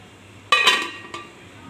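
Mutton karahi being served out of the cooking pot onto a serving dish, with a couple of close metallic clinks and scrapes of utensil against cookware over a quiet background.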